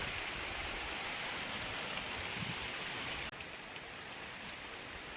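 Heavy rain from cyclone Dana lashing Kolkata with strong wind, a dense, even roar of rainfall that holds steady throughout, dropping slightly in level partway, without voices.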